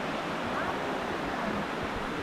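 A river on the cold southern highlands of Antique, Philippines, rushing over slippery rocks: a continuous broadband wash of flowing water, steady and fairly close, with no pauses.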